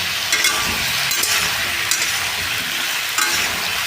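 Prawns and taro sauté in a hot pan, a loud continuous sizzle with rhythmic stirring scrapes of a spatula, close and dense throughout.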